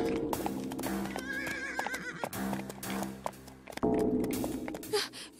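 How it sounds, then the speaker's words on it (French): Horses neigh loudly over a dense, busy backdrop of clattering hooves and commotion, with repeated whinnies rising above the noise. "C'est le son des chevaux de mécréants."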